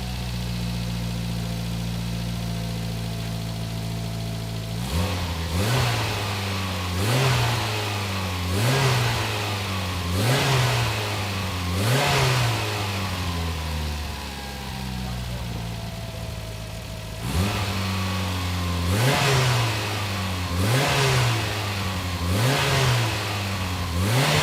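Rebuilt Mitsubishi Evo 8 engine in a rusty project car, revved repeatedly in close, loud bursts that climb and fall back to a steady idle, with a brief pause before another series of throttle blips.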